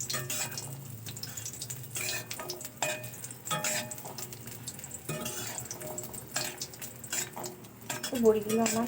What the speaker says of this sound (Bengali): তো এদিকে আমার তেলটা গরম হয়ে গেছে, আমি বড়িগুলোকে একটু লাল লাল করে ভেজে নেব।